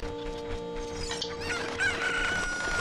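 A chicken clucks and crows in Zelda Ocarina of Time over the game's steady background music, a short rising squawk near the end, close and clear.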